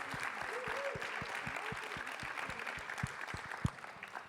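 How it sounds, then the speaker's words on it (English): Quiet, fairly distant round of applause from an audience for the panelists at a college climate action panel during a climate summit, with steady low thumps running beneath the clapping. "can we get a quick round of applause for all our panelists before we get started?"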